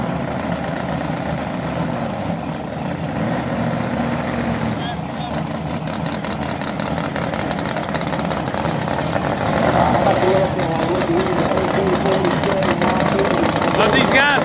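A Chevy Nova drag car sits idling after being cranked, its engine a steady, loud low rumble at a slick-tire drag race that swells slightly louder toward the end, with people talking over it.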